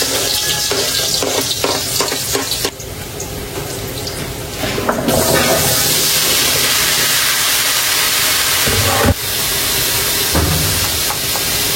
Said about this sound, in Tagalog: Magigisa na po ako ng bawang at sibuyas.